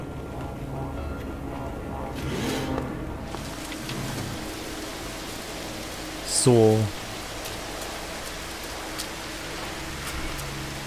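Steady rain hisses through the alien-planet weather of the video game No Man's Sky, a continuous soft wash with a brief spoken word and a short sharp game tone midway.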